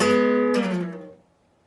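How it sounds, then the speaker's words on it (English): A guitar sounds two notes together, then the pitch slides downward as the strings ring out and fade to silence. "I'm going to slide my hand down the neck of the guitar"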